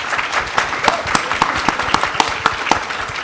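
An audience at a healthcare panel event applauds, a sustained wash of clapping with sharper individual claps standing out, close and fairly loud throughout.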